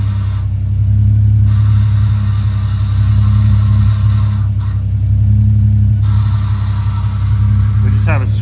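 A Volvo S60 running with its electric exhaust cutout open gives a steady, deep, loud idle rumble that stays even for several seconds with no big revs.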